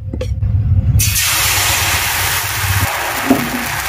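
Pitha batter poured into an oiled frying pan sets off a sudden loud sizzle and hiss that carries on steadily after a brief quieter start.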